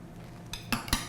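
Metal utensils clink and scrape against a dish while roasted potatoes and linguica are plated, a few short, bright clatters over a low steady background hum.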